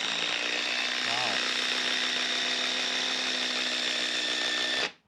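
Ryobi PBLID02 cordless impact driver on a 4 amp hour battery, running at speed 3 with a loud, steady high-pitched whine for about five seconds, then cutting off abruptly.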